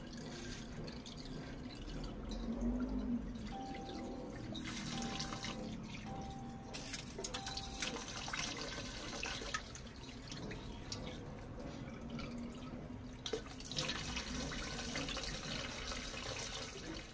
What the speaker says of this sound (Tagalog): ito po ay padadaluyin natin ng tubig sa loob.